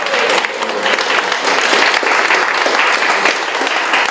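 An indoor audience at a Korean security policy forum gives sustained, dense applause, a steady wash of many hands clapping at even loudness from start to finish.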